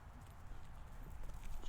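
Hooves of a ridden horse clip-clop in a soft, fairly quick rhythm at a barn, moderately close and steady.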